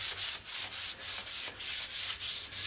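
A Dixie Belle sanding sponge passes over a chalky painted furniture surface in steady, rhythmic strokes, about nine soft scratchy rubs in under three seconds, close and clear with no talking.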